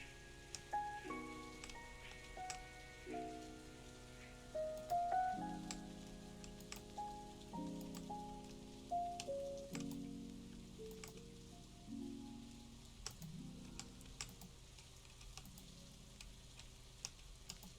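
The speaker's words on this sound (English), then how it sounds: "Oh yeah, it's raining." Steady rain hisses and patters throughout while a gentle melodic tune of plucked notes plays over it, in the video game Stardew Valley's Pelican Town.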